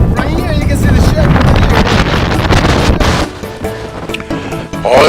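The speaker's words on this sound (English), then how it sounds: "Boy, is it windy up here." Strong gusts roar and buffet the microphone on a rocky island lookout high above the sea, loud and unsteady, easing toward the end, with a voice talking.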